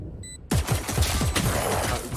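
Rapid gunfire bursts from a competitive multiplayer shooter match, heard as a dense, loud stream of shots after a brief quiet start.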